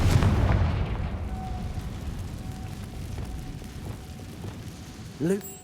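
A Confringo fire spell explodes in Hogwarts Legacy with a loud, booming blast at the start, then a long decaying rumble, faint tones and a brief whooshing burst near the end.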